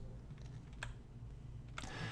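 Keys tapped on a computer keyboard while entering sweepstake and contest details, a few sparse, faint clicks over low steady hum, no voices.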